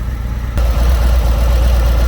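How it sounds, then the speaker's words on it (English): A Harley motorcycle engine fires up and settles into a loud, close idle while warming up before an oil change, its deep, steady rumble replacing quieter background after a sudden start. "Warm up your engine."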